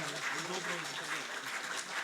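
An audience at a felicitation ceremony honoring Asian Games medal winners claps warmly, a dense, even wash of many hands over about two seconds, with voices faintly mixed in.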